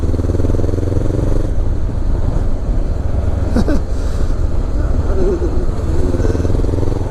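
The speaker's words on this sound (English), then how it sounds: "Love the exhaust on this" A 2016 Honda CB500X motorcycle rolling on in fifth gear during a daily commute, its exhaust giving a steady low rumbling drone close to the microphone throughout, with brief wind buffeting and a clatter midway.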